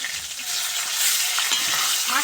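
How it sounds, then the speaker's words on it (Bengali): Fish frying crisp in a pan over low heat, giving a loud, dense, continuous sizzle up close with faint stirring. "আমি আস্তে আস্তে জাল দিয়ে মাছটা ভেজে দিব মচমচে করে"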